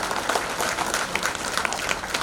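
A crowd claps steadily at a felicitation ceremony in Ongole, a dense, even patter of many hands that continues throughout.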